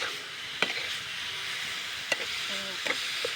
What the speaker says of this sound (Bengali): বিটটাকে দিয়ে আমি বেশ খানিকক্ষণ নাড়াচাড়া করে নেব